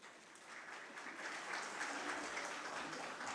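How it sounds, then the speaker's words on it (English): Faint applause from a conference audience swells gently and holds, heard from a distance as a soft, steady patter of clapping. "Let's give them a round of applause."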